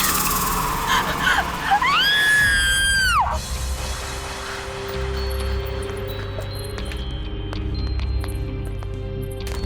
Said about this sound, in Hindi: फिर ये चीख